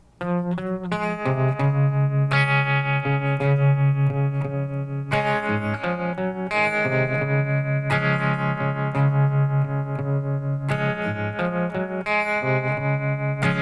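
An electric guitar plays the intro to a song with effects, ringing chords and a repeating melodic figure, loud and close, no voices.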